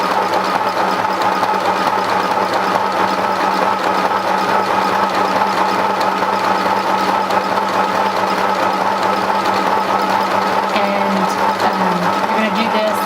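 Sewing machine zigzag stitching across ribbon edges, a steady close mechanical whir with fine rapid needle ticking running continuously, alone without talk.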